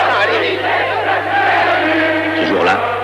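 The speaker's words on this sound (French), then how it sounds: "de la foule s'élève un seul cri" A large street crowd at a 1936 Popular Front demonstration in France roars with one sustained collective shout, dense and loud, with the cry swelling and dipping slightly near the end.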